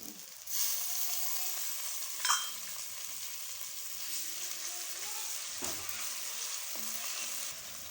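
Ginger garlic paste fries in a pan for a spinach and potato dish, giving a steady, close hiss of sizzling with a few brief clinks and scrapes and no talking.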